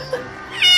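A young kitten meows during its first bath: one short, high, rising cry that swells louder near the end, close by.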